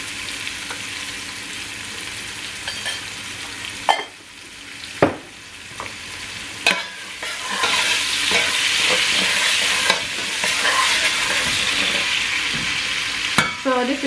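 Chopped onion sizzling and frying in a pot with salt being added during batch soup cooking, a steady broadband hiss broken by several sharp stirring clacks and knocks, close and moderately loud, with no talking.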